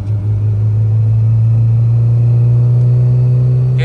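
Honda Integra DC2 engine idling steadily up close, a loud, constant low rumble that holds for the whole stretch without revving.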